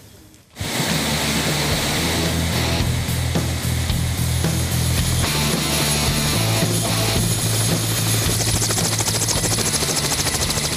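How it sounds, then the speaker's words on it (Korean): Russian-built heavy helicopter taking off, its loud, steady rotor and turbine roar starting abruptly after a brief quiet and holding close and constant throughout. "그래서 연료를 주입한 헬기가 하늘로 날아올랐다."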